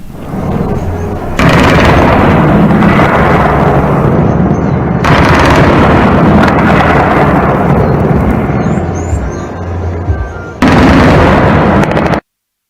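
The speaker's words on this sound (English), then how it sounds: "let's take a look at what the scene was like with the gunfire in the air" Gunfire during an armed clash in Mbeseha, with dense, continuous loud bursts of shots and rapid automatic fire rattling on for several seconds, broken by short lulls and echoing through the surroundings.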